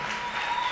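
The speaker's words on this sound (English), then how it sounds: "let me know by a big round of applause." A brief burst of audience applause after a presentation at a middle school live-streamed event, a short, even patter of clapping at moderate level.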